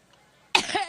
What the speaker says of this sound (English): She had this coughing fit while speaking.